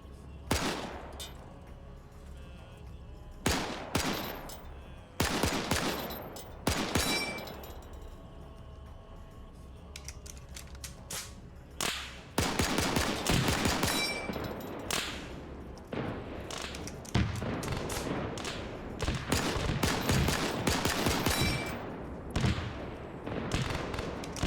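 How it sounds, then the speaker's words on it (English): Machine-gun fire in a desert warfare video game, in repeated rattling bursts that start sparse and grow into dense, near-continuous volleys. Sharp cracks and thuds are heard throughout. "So MG's firing at him."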